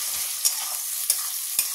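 Two small onions fry in already-hot oil in a wok, giving a steady close sizzle broken by three sharp spatula taps at roughly even intervals, with no talking.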